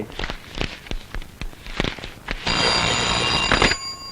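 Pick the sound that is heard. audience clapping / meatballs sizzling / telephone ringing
telephone ringing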